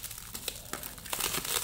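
Plastic wrapping on a parcel of books from a bookshop crinkles and crumples as it is unpacked, a close, continuous rustle with sharper crackles building toward the end.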